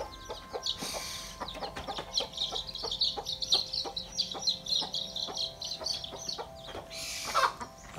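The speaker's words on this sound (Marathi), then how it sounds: "इथे साईड बाय साईडला कोंबडे पण सोडलेले आहेत आणि ते एकमेकात भांडतायत" Roosters squabble side by side in a Konkan village backyard, giving repeated sharp clucks and squawks with a few louder flurries of flapping. The sounds are close and fairly loud, with nobody speaking.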